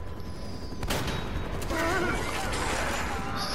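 Shotgun blasts in the video game Uncharted, with a sharp loud report followed by mechanical clacks and creaks of the weapon amid ongoing game noise.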